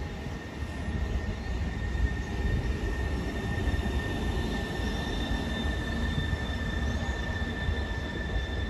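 A train passes on the Salamanca–Valladolid line in Spain. Continuous high squealing tones from the wheels ring over a dense, steady rolling roar that stays close and loud the whole time.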